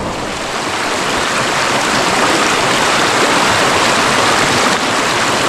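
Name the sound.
Genal river stream flowing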